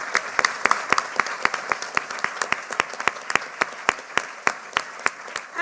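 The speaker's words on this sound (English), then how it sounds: "Big round of applause." A small audience at a British Library business event applauds its guest speakers after a Q&A, with sparse, evenly spaced, distinct claps ringing out steadily at close range for several seconds.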